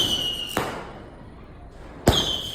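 Two sharp reports from a Sweet 16 sky shot Diwali firework, each a sudden crack about a second and a half apart, heard outdoors over a steady background hiss.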